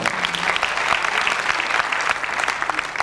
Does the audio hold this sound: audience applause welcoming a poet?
yes